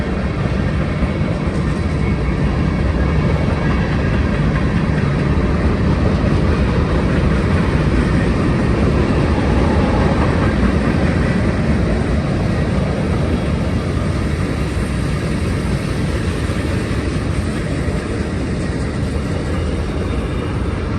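A long Union Pacific manifest freight train climbs the steep grade of Cajon Pass, a constant heavy rumble of engines and rolling cars heard from a distance, steady and unbroken.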